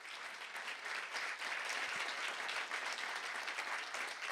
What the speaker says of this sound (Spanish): tibios aplausos para quienes van a presentar el libro